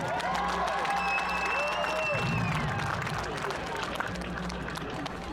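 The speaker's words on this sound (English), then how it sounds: "Please give a round of applause for Mariah and Malcolm." A crowd applauds homecoming king and queen candidates at a high school event, steady clapping and cheering filling the gym throughout, with a voice over a loudspeaker sounding above it at moments.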